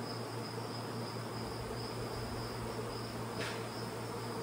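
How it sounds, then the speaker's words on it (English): A steady, low insect buzz, like bees droning at a window, continues without a break against a faint, constant background hiss. "So the window is like a magnet for all those bees."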